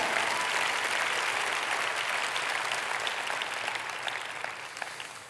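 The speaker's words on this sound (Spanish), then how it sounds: "Dale un aplauso al Señor si crees lo que estás escuchando." A church congregation claps steadily in a dense wash of applause that holds at a moderate level and fades gently near the end.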